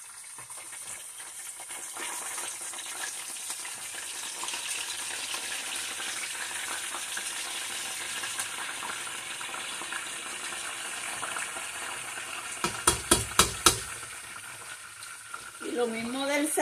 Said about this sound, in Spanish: Véngase a cocinar pescado conmigo por aquí